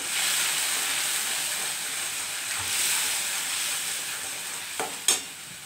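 Potatoes and tomato sizzle and fry in a pan with turmeric and salt for vegetarian aloo dum. A continuous hiss with occasional stirring scrapes near the end, close and steady.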